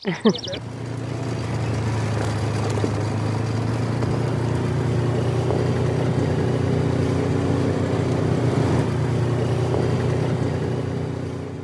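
Gator utility vehicle engine running steadily and close during a ride, a continuous low drone with a brief clatter at the start; voices talk occasionally over it.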